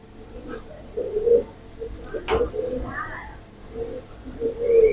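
A large pair of Giribaz pigeons coo near the listener in several separate bursts of low, rolling murmurs over a few seconds. A sharp click cuts in midway, and faint scuffling and background noise run underneath.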